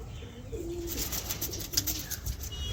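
Andhra pigeons, a flying breed kept in a loft, give a continuous low cooing with several throaty phrases at close range over a steady outdoor background.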